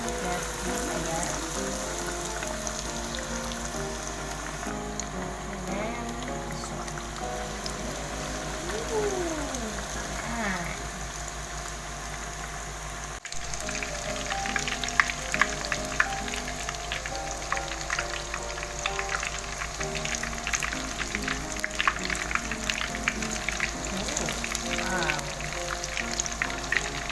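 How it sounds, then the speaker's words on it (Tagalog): Chicken cordon bleu sizzles in hot oil with a steady dense crackle and scattered pops that grow livelier midway, close and continuous, under faint background music. "ipa-fry na natin yung ating cordon bleu"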